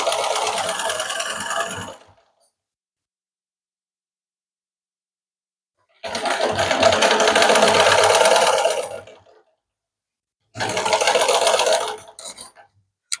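Sewing machine stitching the lining of a blouse, three loud close runs of rapid whirring stitches separated by silent pauses.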